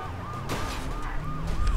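Police siren in the video game Wheelman, a wailing siren rising and falling repeatedly at moderate distance over low engine rumble, faint in the mix.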